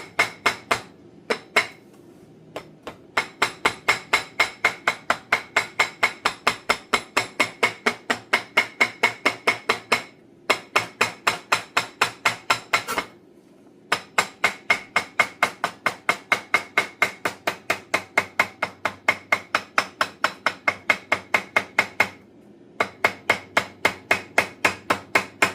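A hammer taps rapidly and steadily around a tractor exhaust manifold gasket, sharp metallic strikes in quick even bursts with a few brief pauses, close and alone.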